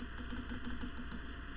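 Someone types on a computer keyboard while entering a name into a PHP web form, with quick, light, irregular key clicks at low volume and no talk.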